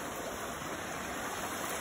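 Creek water rushing beneath a footbridge in Redwood Park, running high after rain, makes a steady, dense, broadband roar with no breaks, close and loud throughout.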